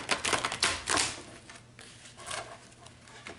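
Rapid papery riffling bursts of cards being shuffled, loud at first then softer, with brief pauses between the flurries.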